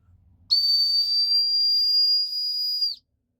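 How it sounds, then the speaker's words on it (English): A Firebiner carabiner's built-in whistle blasts one loud, piercing, high-pitched steady tone for about two and a half seconds, then cuts off abruptly into silence. "That is high pitched whistle."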